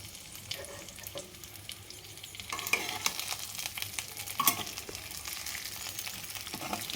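Stuffed brinjal being stirred in hot oil in a pan, a continuous sizzle with scraping and clattering stir strokes that grow busier midway, close up and without talk.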